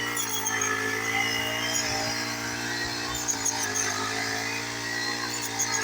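A Chinese rice harvesting machine cutting paddy in a field drones loud and steady, a continuous buzzing engine with a strong low hum and no pauses.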